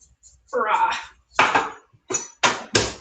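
A large sharp knife chops vegetables for a stew on a cutting board in a home kitchen, giving several distinct cutting thuds in an uneven rhythm.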